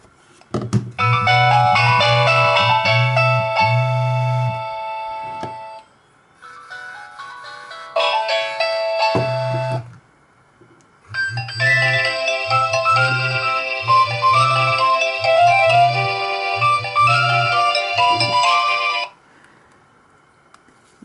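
Nokia 2600 (RH-59) mobile phone ringtone melody playing loudly through its speaker, a bright polyphonic tune in bursts with short pauses, repeating phrases over a pulsing low beat, no talking.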